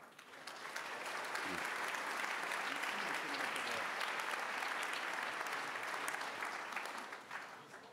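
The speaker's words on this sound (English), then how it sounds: "So let's give him a round of applause" A conference audience gives sustained applause for French President Emmanuel Macron at the Munich Security Conference, a dense even wash of many hands that swells quickly, holds steady, then tapers off.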